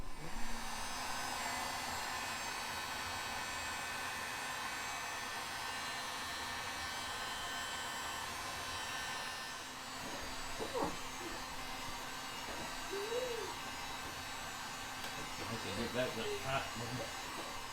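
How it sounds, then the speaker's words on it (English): A steady, loud blowing whoosh of a heat gun used during an LED board install runs throughout, with a few faint clicks and brief murmurs toward the end. "you do want to use a heat gun"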